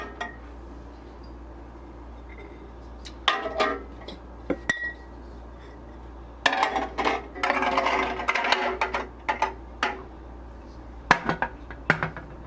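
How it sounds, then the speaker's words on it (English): Glass canning jars clink and knock as they are set one by one into a pressure canner for preheating before canning pumpkin, irregular bursts of bright glassy and metallic clatter over a low steady hum. "I'm just gonna be placing these in the canner."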